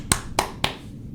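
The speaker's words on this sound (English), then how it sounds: "A round of applause." Three sharp, evenly spaced claps ring out in quick succession as applause for a flight attendant after a gear failure emergency, close and crisp, each fading briefly before the next.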